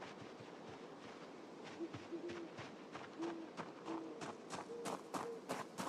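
Owls hoot in the Project Zomboid video game, a few soft, low calls spread across a breezy outdoor ambience with scattered faint ticks and rustles.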